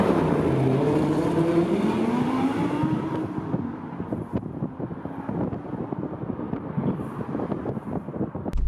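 Audi R8 V10 Spyder sports car on the move, engine note rising through a smooth pitch sweep as it accelerates, then a rougher throbbing drone with wind rush, fairly loud and with no talking.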